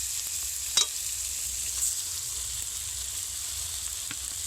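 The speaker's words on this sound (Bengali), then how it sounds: "আলুটা দু মিনিট ধরে মশলায় কষে নিয়েছি এর ওপরে ভেজে রাখা বেগুন দিয়ে দেব" Pre-fried eggplant stirred into potato cooked in spice masala for a Bengali eggplant curry, giving a steady soft sizzle from the pan with a couple of sharp utensil clinks.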